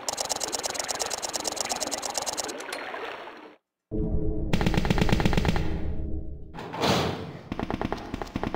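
Heavy gunfire in Resident Evil 2's Ultimate Battle Mod, with rapid repeated blasts pounding almost continuously, loud and dense, broken by a brief silent gap and a rumbling engine-like drone beneath.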